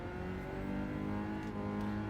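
A car engine in Gran Turismo 7 on PS5 revs with a steady, droning tone, a continuous moderate-level whir held throughout without any talk.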